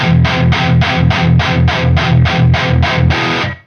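Electric guitar played through a Horizon Devices Precision Drive pedal, giving an aggressive, heavily distorted tone: about a dozen even, chugging palm-muted chords in a steady rhythm, loud and close, then a sudden cutoff.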